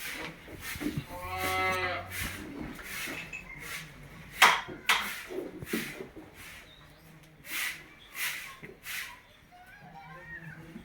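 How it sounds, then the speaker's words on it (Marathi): A dairy cow moos with a long, low call early on, followed by a few shorter animal calls and farm noises at moderate distance. "व्हिडिओमधील पाच नंबरची गाय"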